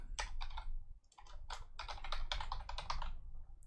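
Typing on a computer keyboard during a live coding session for a sliding block puzzle game, with bursts of close, rapid key clicks in uneven clusters and brief pauses between them, no talking.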